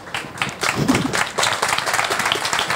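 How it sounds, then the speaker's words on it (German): Theater audience at an amateur comedy performance applauding the actors: loud, full clapping from many people that starts a little quieter and swells into a thick, rhythmic patter close by. "Applaus"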